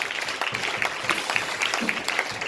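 A church congregation applauds for the Lord in steady, even clapping. The applause is moderately loud and fills the whole clip, with no voices over it.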